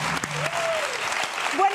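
Studio audience applauding on a Mexican late-night talk show, sustained clapping with a host's voice talking over it and brief tonal sounds near the end.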